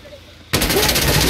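Sudden loud bursts of rapid automatic gunfire in Insurgency: Sandstorm erupt after a brief quiet moment and continue as a dense, continuous rattle of close shots.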